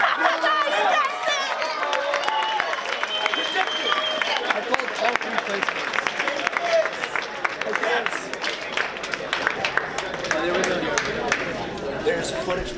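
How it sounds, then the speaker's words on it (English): Crowd at a hackathon cheers and claps as the winner is announced, lively applause mixed with excited chatter, shouts and babble, loud and close, with individual claps standing out through the noisy mix. "Let's get a round of applause"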